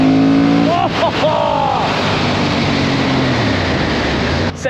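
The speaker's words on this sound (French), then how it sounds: "Cette Honda Hornet, elle a un bruit incroyable." A Honda Hornet 750cc twin-cylinder with a single-cam head roars loudly and close, its engine revving up and down in several sharp blips before settling into a sustained rasping howl.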